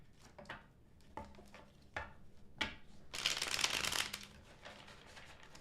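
Tarot cards are shuffled by hand, with several quick riffling snaps and taps followed by a longer, denser burst of riffling, close and fairly quiet with no talking.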